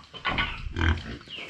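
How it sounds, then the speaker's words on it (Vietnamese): A young farm-raised pig, about three months old, grunts and squeals close by in a quick burst of two or three noisy calls, with no speech over them. "Cái con lợn con này nuôi mấy tháng rồi?"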